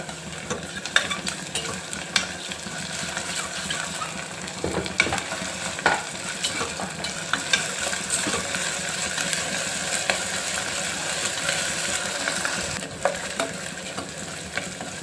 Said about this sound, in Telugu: ఈ జింజర్ గార్లిక్ పేస్ట్ కూడా మంచిగా వేగింది కదా